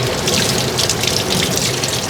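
Water runs from a tap over wooden satay skewer sticks to wet them, a steady close gushing stream with no talk.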